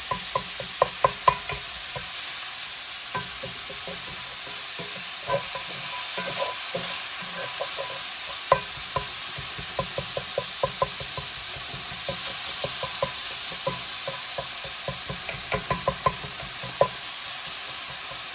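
Ground pork sears in a hot pan for a cabbage stir fry, giving a steady close sizzle and frying hiss, with scattered clicks and taps from stirring and the utensil knocking the pan.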